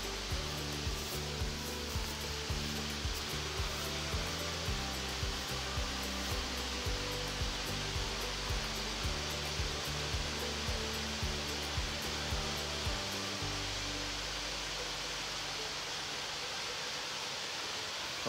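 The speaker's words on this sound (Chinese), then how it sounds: "叫铁线瀑布" Tiexian waterfall seen from a viewing platform on the Batongguan trail in Taiwan, a steady broadband roar of falling water with regular footsteps that stop near the end.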